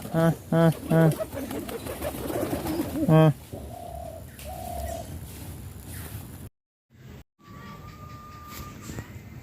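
Local domestic pigeons coo in a few soft, repeated bursts near the start as a male courts a young female, followed by quieter rustling and a couple of brief thin tones, with short silent gaps.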